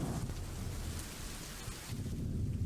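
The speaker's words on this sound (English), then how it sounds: "The rain gave me a terrible sense of foreboding and it chilled me to my clothes." Steady rain with low rumbling thunder in the horror game Home, a dense continuous wash that swells slightly toward the end, with no voices.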